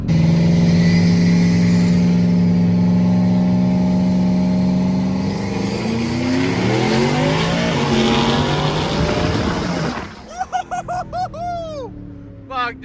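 A twin turbo Ford F150 drag truck launching on a no-prep drag strip, a loud engine roar rising through the gears with a clear shift, then fading as the truck pulls away, leaving faint crowd noise and distant sounds.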